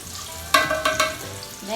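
Salisbury steak patties frying in a pan: a steady low sizzle, with a few sharp scraping stirs or turns clattering partway through, no talking.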